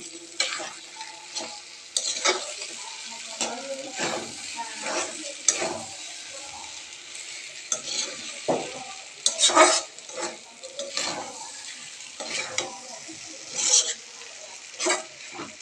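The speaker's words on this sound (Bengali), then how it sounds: "দিয়ে সুন্দর করে নাড়াচাড়া করে নেবে। মশলাটা মিক্স করে নিতে হবে।" Noodles frying with packet spice mix are stirred and tossed in a pan, with repeated scraping knocks and clatter over a continuous sizzle and occasional metallic clinks.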